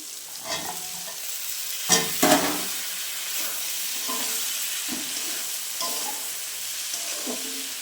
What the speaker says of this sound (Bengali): ভালো করে আমি ভেজে নেব, তারপরে আলু আর পেঁপেটা দেব।